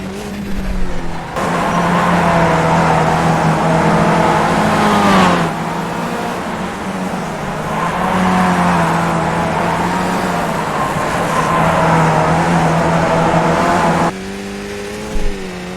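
Race car engine from the iRacing sim game, a Skip Barber car at Long Beach, drones loudly and steadily with shifting revs, dipping at gear changes, with worn tires starting to lose grip.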